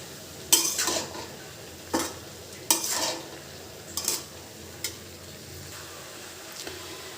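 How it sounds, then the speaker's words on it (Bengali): Vegetable bhaji with tomato stirred through it in a pan, a spoon scraping in several separate strokes spaced a second or two apart over a faint sizzle, close by. "দিয়ে দেবো একটু টমেটো, তারপর এটাকে মিক্স করে দিবেন"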